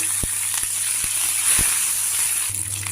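Steady close sizzling of urad dal, cumin, mustard seeds and curry leaves tempering in hot oil, with a few sharp pops and crackles scattered through.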